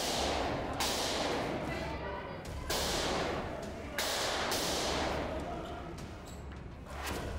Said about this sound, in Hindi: गोलियां दागती पुलिस